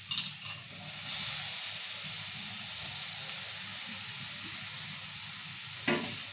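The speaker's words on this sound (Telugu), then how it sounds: "ఇప్పుడు ఇక టమాటా కూడా వేసేస్తాం" Tomatoes hit a hot pan during upma making and set off a loud, steady hiss and sizzle that holds throughout, with a short clatter near the end; no voices.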